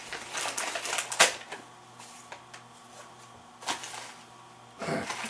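Scissors cut through tape and packaging during an unboxing, a series of sharp, close snips and crinkling clicks in uneven clusters with quiet gaps between them.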